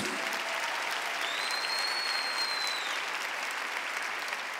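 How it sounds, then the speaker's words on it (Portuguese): Church congregation applauding at a prophetic conference service, a steady dense wash of clapping from a large crowd, even in level throughout, with a faint whistle-like tone rising over it midway. "Pode aplaudir a Jesus"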